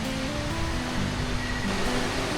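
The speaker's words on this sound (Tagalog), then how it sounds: "Maririnig natin dito yung lagas-gas ng ilog" A steady, soft rush of flowing river water beside a campsite, continuous and fairly distant, with no voices.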